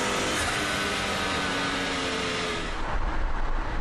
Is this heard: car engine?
yes